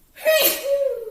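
A single sharp sneeze bursts out close by, a quick intake then an explosive, slightly voiced release that trails off.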